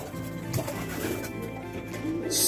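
Racing pigeons coo in a loft area, a steady low murmuring call repeated through the moment with faint rustling and a brighter hiss building at the end.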